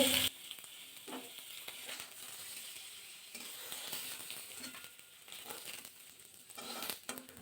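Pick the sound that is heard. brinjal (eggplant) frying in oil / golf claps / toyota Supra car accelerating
brinjal (eggplant) frying in oil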